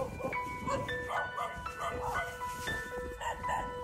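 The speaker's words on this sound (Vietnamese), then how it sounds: "Trước đó mình nghe tiếng chó thì mình cứ suy nghĩ là có chó là có người." A dog barks repeatedly near a radar station on the Son Tra peninsula, short yips and barks in quick irregular bursts at moderate distance, with faint tonal sounds in the background.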